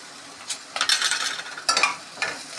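Onions, chilli, ginger and garlic frying in a pan, heard as a few short bursts of sizzling and spatula scraping against the metal between quieter pauses.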